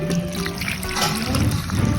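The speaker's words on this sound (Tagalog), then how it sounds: "at maglagay na tayo ng tubig" Water trickles and splashes as it is poured steadily into okoy batter seasoned with ground white pepper, close by, with some background clatter.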